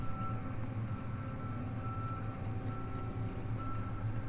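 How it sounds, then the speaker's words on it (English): A combine harvester gives off a steady, faint electronic beep, like a reversing alarm, over a continuous loud drone of farm machinery engines, with no talking. "Can you hear it beeping? A combine beeping."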